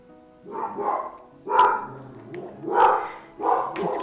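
A dog barks four times in separate, fairly close and loud bursts roughly a second apart, each woof rough and midrange, with quiet indoor background between them and no talking.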